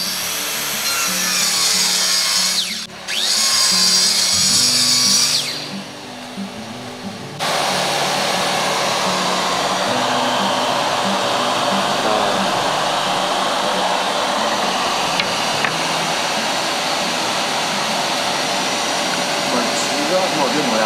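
A circular saw fitted with a Motoyuki 10P hexagon-type diamond-tipped blade cutting, a loud high whine that dips briefly before a sustained, steady grinding cut runs through to the end.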